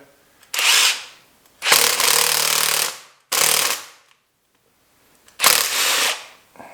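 Power gun driving a bolt into a T-nut during a snowmobile sled build, four loud, close bursts of rattling impact-wrench hammering separated by brief pauses, with no talk.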